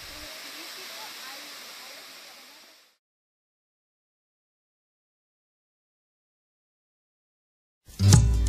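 Waterfall in Bolivia plunging into a cold, clear pool beside a carved tree: a steady, fairly loud rushing wash that fades out after about three seconds, followed by silence and then a short, loud burst at the very end.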